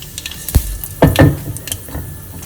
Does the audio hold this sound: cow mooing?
no